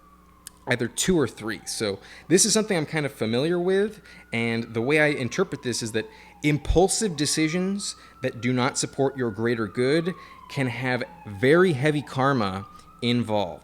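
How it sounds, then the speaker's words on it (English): An emergency siren wails steadily in the background, a long rising and falling tone running behind continuous close speech from someone talking throughout. "I apologize for the siren in the background."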